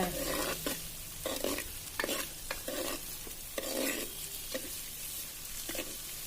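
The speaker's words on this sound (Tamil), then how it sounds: "எல்லாம் போட்டு நல்லா பொன் வரவில் சிவக்கு வர வரைக்கும் வறுத்துக்கிட்டே இருக்கணுங்க" Green chillies, curry leaves and other ingredients frying and being stirred for a village-style dried fish and brinjal curry, a steady close sizzle broken by repeated scraping stirs, with no talking.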